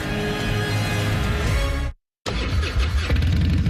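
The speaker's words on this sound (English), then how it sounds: "This is the sound of a popular American motorcycle." A loud, steady American motorcycle engine roar, cut off by a brief silence before it resumes just as strongly.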